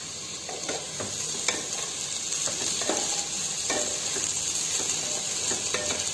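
Ginger garlic paste fries in a pan over a medium flame for a vegetable biryani, with a continuous close sizzle broken by regular scraping strokes of a stirring utensil.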